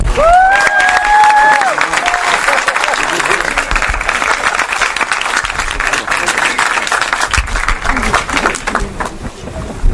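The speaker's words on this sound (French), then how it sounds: "applaudissements quand même pour le réalisateur." An audience at a French screening applauds a film director, loud sustained clapping with some crowd noise and cheering, a brief whistle-like tone near the start, and a voice emerging toward the end.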